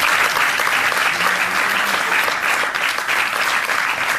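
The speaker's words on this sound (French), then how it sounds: "Voilà, j'aimerais qu'on l'applaudisse." Loud, continuous applause from a cinema audience at the avant-première of the film Dark Hunt Genesis, a thick wash of clapping that holds steady for the whole stretch.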